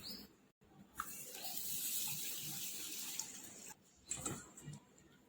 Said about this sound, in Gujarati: એક કપથી બી ઓછી મગની દાળ લીધી છે હવે આપણે એને બે ત્રણ પાણીએ ધોઈ લઈશું